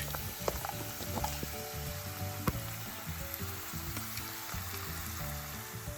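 Onions frying in a pan for a kidney-friendly meal, a soft, steady sizzle with frequent clicks and scraping taps of stirring, fairly quiet and without speech.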